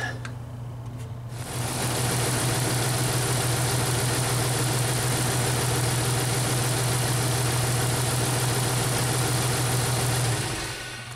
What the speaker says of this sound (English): I'm going to turn the ignition on and we'll fire it up again